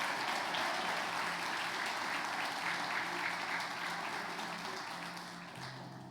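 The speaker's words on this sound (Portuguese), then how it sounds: "Aplauda Jesus, porque o milagre chegou" A church congregation claps together in sustained, dense applause that fills the room, steady at first and slowly fading toward the end, with faint voices mixed underneath.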